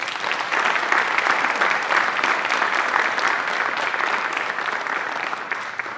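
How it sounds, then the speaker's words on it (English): An audience at a regular board meeting gives Patty Wiggins a warm round of applause: steady, dense clapping from many hands that holds at an even level for about six seconds before easing slightly. "give her a big round of applause"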